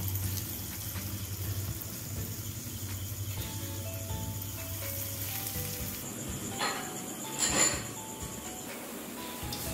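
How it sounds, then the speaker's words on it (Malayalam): Small balls of moringa leaf pakoda deep frying in hot oil, a steady close sizzle and crackle with occasional louder bubbling pops. "നമുക്ക് ചെറിയ ഓരോ ഉരുളകളാക്കി ഒന്ന് ഡീപ് ഫ്രൈ ചെയ്തെടുക്കാം."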